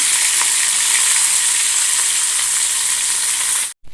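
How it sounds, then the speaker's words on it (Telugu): Dry fish fries in a little oil in a pan on a low gas flame, giving a loud, dense, continuous hiss that cuts off abruptly just before the end; no voices. "కొద్దిగా ఆయిల్ వేసుకొని ఫ్రై చేసుకుందాం."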